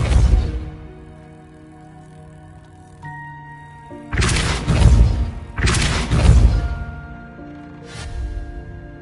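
Depulso spell effects in the Hogwarts Legacy video game sound as a few heavy, booming bursts in quick succession over soft background music, each loud blast fading out after a second or so.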